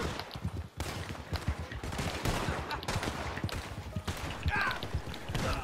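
Gunfire in the Western game Red Dead Redemption: a steady stream of close, sharp shots and crackling reports, with voices talking underneath.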